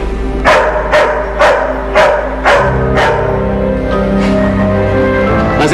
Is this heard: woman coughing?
no